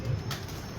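Soft cooing of a Tady pigeon, an antique breed, sits low under steady background hiss in a short, continuous stretch, with a brief brighter rustle partway through.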